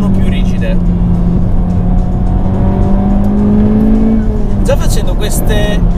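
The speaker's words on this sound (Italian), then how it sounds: "Già facendo queste lunghe curve a velocità sostenuta sento che la macchina è ben piantata a terra" 2018 Honda Civic Type-R driving at sustained speed through long mountain curves, a steady loud engine drone heard from inside the cabin with someone talking over it throughout.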